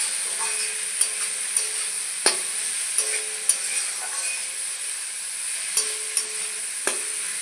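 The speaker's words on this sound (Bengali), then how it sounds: "দেখুন, মশলার সঙ্গে শসা ভালো করে কষিয়ে নিয়েছি।" Cucumber sautéing with spices in a pan gives a steady broad sizzle, broken by several sharp clicks and scrapes of a spatula against the metal at irregular moments, with no voices.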